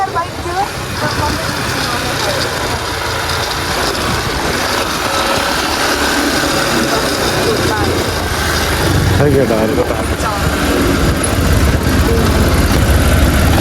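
A motorcycle engine idles with a loud, steady rumbling drone that swells slightly toward the end, with traffic and voices mixed in around it.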